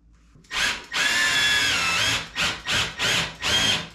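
A power drill drives screws into a DIY floating vanity for a vessel sink: loud, close whirring bursts, one long run followed by four shorter pulses, with no talking.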